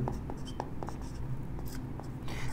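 Chalk or marker writing on a board during a chemistry lecture on redox balancing, a series of short scratchy strokes in a steady rhythm, close and moderately loud over a low room hum.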